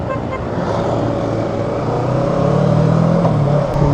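Kawasaki Versys 650 twin-cylinder motorcycle riding with a passenger on the back, giving a steady, smooth, quiet engine hum mixed with road and wind noise. The engine swells slightly as it picks up speed in the latter half.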